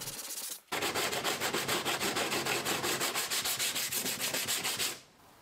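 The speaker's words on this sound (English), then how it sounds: "I'm sanding this lightweight filler with 2 different grits of sandpaper, 80 grit first and then 180 grit" Sandpaper at 80 then 180 grit scrubs over lightweight body filler on a rusted car panel, a loud, close, rhythmic rasping of rapid back-and-forth strokes that runs steadily for about four seconds, then stops.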